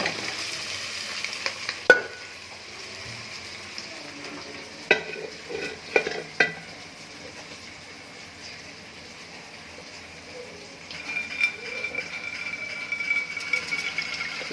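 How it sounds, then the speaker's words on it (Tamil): Chicken pieces fry in a pan with a continuous soft sizzle, broken by clanks and scrapes of a spoon stirring at intervals, with no talking. "போட்டுறேன் கோழியை."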